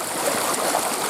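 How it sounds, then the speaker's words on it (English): Water rushes steadily through a full ditch past a beaver dam, a loud continuous broadband flowing and gurgling with no pauses. "Water's flowing pretty good now. That ditch is just about full."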